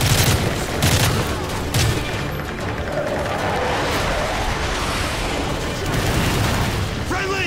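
Rapid overlapping gunfire and booms from Modern Warfare 3 gameplay, dense and steady over several seconds alongside game voices.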